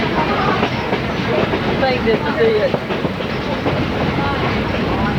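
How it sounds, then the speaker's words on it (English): A train rolls across the Fontana Trestle railroad bridge with a steady, close rumble and rhythmic clatter of wheels, faint squeals mixed in, while a person speaks briefly over the noise. "we're crossing over the Fontana Trestle on a railroad bridge"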